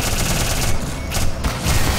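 A turret in the Black Mesa video game fires a continuous rapid burst of gunfire, dense and loud, with brief dips before the rattle resumes.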